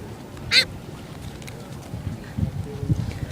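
Ducks quack and squabble while being fed bread among a crowd of birds: one sharp, loud call near the start, then low scattered honks and splashy sounds at moderate distance.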